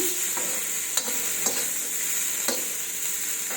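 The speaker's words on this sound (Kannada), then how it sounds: "ಈಗ ಒಂದು ಸ್ವಲ್ಪ ಎಣ್ಣೆ ಹಾಕಿಬಿಟ್ಟು ಫ್ರೈ ಮಾಡೋಣ" Food fries in a little oil in a pan during dhaba-style home cooking, a steady close sizzle broken by a few scraping stirs of a spoon against the pan, with no voices.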